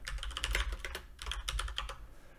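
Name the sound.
typing on a computer keyboard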